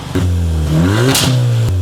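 A 2016 Volkswagen Scirocco fitted with a Varex exhaust revs up close, its engine note climbing steadily, blipping sharply once, then settling back to a lower, rumbling idle.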